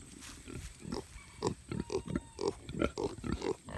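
Kune Kune pigs grunt in a steady run of short, close, moderately loud snorts and oinks, roughly three per second, with little else around them.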